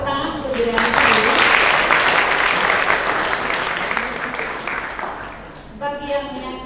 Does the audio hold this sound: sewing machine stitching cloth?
no